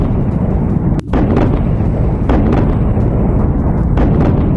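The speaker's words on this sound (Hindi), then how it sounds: "करज में इजरायली हमलों से नॉन स्टॉप विस्फोट।" Israeli air strikes on Karaj in news footage: heavy, continuous booming blasts with a loud rumbling wash, one sharp burst cutting through near the start and further thuds following in quick succession, no talk.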